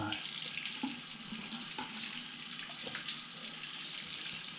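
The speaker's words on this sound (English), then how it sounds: "Rinsing these dishes clean" Dishes being rinsed under a running kitchen tap, a steady hiss of flowing water broken by a few soft clinks and knocks of crockery, close and calm.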